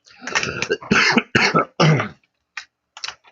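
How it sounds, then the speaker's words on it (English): A few sharp throat-clearing coughs in quick succession, close and loud, followed by a couple of faint soft clicks. "Clear my throat."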